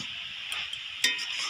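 Chichinga greens chorchori stirred in a pan, a steady frying sizzle under a few sharp scrapes and a clink from the utensil, close and brief with no voices.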